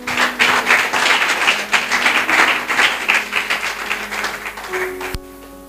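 A church congregation at a Sunday service claps together in dense, pulsing applause that swells and holds for several seconds, then cuts off sharply.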